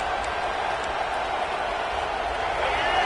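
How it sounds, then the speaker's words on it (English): Stadium crowd in a college football video game, Arizona State at Washington, a dense, steady roar of cheering that holds loud throughout. "This crowd is trying to inspire this defense to make a big red zone stop."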